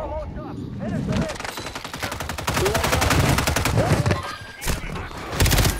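Sustained automatic weapon fire in the video game Call of Duty, loud and continuous rattling bursts with short breaks and people talking over the shots.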